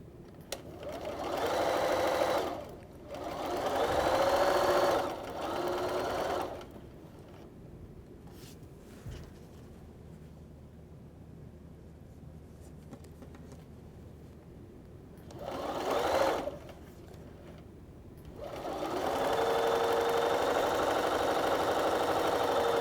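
A sewing machine stitches quilt blocks together in several loud, close bursts of rapid whirring, separated by quiet pauses.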